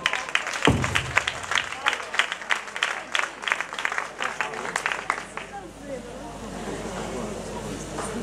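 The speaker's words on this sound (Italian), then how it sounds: "Un applauso a chi non è ballerino ma prova ad esserlo." Audience applause at a local talent-show evening in Castri di Lecce, a dense burst of clapping that carries on steadily and then thins into a softer, more diffuse patter toward the end.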